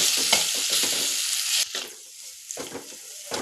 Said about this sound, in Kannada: ಫ್ರೈ ಮಾಡಬೇಕು